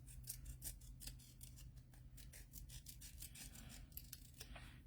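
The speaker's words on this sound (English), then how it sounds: "So we can start trimming I want something a little bit more skinny." Scissors trimming paper for a craft embellishment, making a quick run of crisp snips that stay faint and close. No one speaks.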